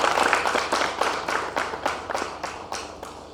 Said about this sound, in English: So people of Gilgit Baltistan really deserve a clap, I think, from all of us.